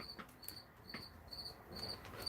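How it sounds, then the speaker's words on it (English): Crickets chirping outdoors in repeated short high trills, faint and steady against a quiet background with light ambient noise. "Can you hear the crickets? You can hear the crickets."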